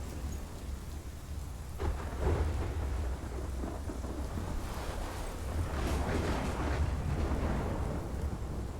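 A thunderstorm in the video game Life is Strange brings steady heavy rain with gusting wind and rolling thunder that swells and fades several times, with no voices.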